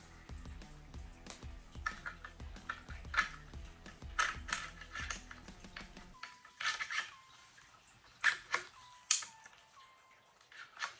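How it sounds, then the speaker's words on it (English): Bolt of a Savage bolt-action rifle slid into the receiver, a series of close, light metallic clicks and taps with a faint steady hum early on, then sparse sharper clicks after a short pause. "And let's put the bolt inside."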